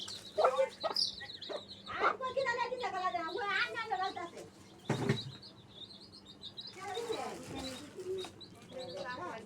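Seven-day-old desi chicks chirp and peep rapidly in busy, overlapping bursts, close by, with a voice speaking intermittently among the calls.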